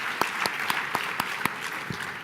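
Hand claps ring out in an evenly spaced, steady rhythm of about eight sharp slaps, applause at a public event launching a bicycle initiative, with a hiss of crowd ambience behind them.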